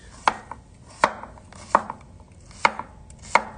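A knife chops through cucumber on a board in five sharp, evenly spaced strikes about three quarters of a second apart, close and clear against a quiet background.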